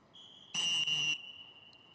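A referee's whistle at a women's 76 kg freestyle wrestling semifinal gives one sharp, loud, half-second blast over faint arena ambience with a steady tone.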